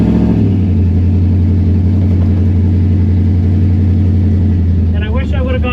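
Jeep accelerating hard on a drag racing pass at Miles of Mayhem 2024, a loud, steady engine roar held for several seconds, with a brief higher-pitched rising whine near the end.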